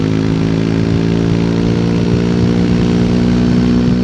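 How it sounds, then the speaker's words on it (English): A 2024 Triumph Speed 400 motorcycle out on the road, its engine giving a loud, steady, close-up drone that surges slightly throughout, with no talking. "It's a great sounding engine. It's got a lot of poke."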